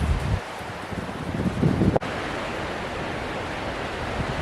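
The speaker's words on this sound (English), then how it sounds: "It's windy up here." Steady broadband wind roar buffeting a microphone on a hilltop track in Mt Oxford Forest Park, loud and continuous, with a brief gust-like rise and a sharp dropout near the middle.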